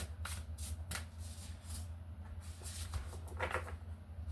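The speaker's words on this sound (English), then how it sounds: "We'll give it one more shuffle here." Cards riffle and slap together in quick repeated bursts, close and fairly quiet, over a low steady hum.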